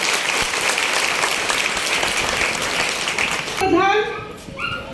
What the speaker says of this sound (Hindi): ऐसी महिला शक्ति के लिए एक बार जोरदार तालियां।